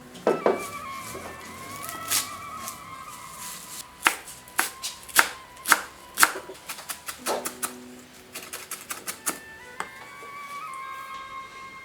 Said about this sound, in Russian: Зелень, кинза, 3 пучка. Нарезается очень мелко.